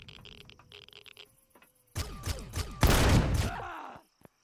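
Gunfire from an infected enemy striking the player in Empyrion Galactic Survival: faint clicks, then a sudden loud volley of rapid close shots and impacts that ends abruptly.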